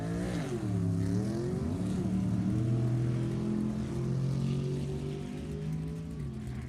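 Drag race cars, one of them a Ford Fairlane, accelerate down the strip at an all-Ford event, engines droning and rising in pitch through gear changes, heard from a distance as a steady roar.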